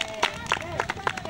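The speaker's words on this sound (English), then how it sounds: "All right, big clap." Children in an audience clap at a kids' party show with a clown act, a brief ragged burst of separate claps with crowd babble and voices over it.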